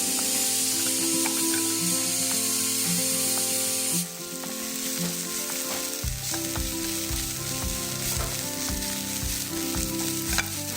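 Chopped vegetables and spinach sizzle steadily in a hot pan for hara bhara kebab, a continuous dense frying hiss with occasional stirring scrapes and no voices.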